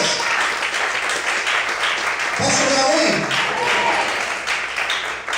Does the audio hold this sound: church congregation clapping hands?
yes